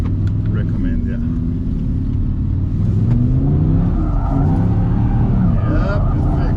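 2023 Audi R8 GT accelerating hard in second gear on a track, its engine revving steadily with rising and falling pitch, loud and close, while people talk inside the car.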